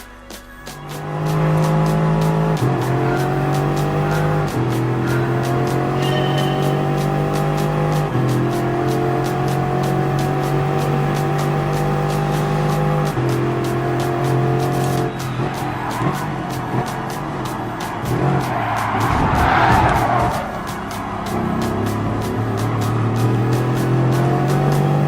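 A race car in Gran Turismo Sport roaring at high revs through gear changes, its engine tone stepping up and down, with a burst of tire squeal and skidding near the end, loud and alone.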